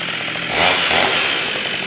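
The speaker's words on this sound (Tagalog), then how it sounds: "Ito naman po yung grass cutter na may gulong." A small engine on a wheeled trolley-style grass cutter runs during a test, a loud, continuous buzzing drone that briefly swells in the middle as the throttle rises, with no talking.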